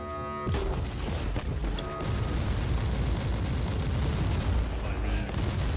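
Rebel mortars pound an Imperial fort in a Warhammer 40k game, a sharp blast followed by continuous rumbling explosions and dense battle noise.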